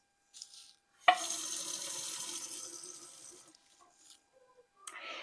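Water runs from a kitchen faucet in a steady, close stream for about two and a half seconds after a brief trickle, then tapers off into small splashes and a final short burst.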